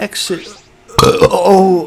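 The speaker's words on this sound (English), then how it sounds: "that was a burp explosion." A loud, wet burp from the video game Danganronpa V3 bursts out after a short pause, followed by a voice reacting over lingering gurgly noise.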